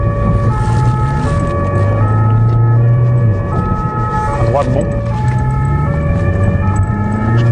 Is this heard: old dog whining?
no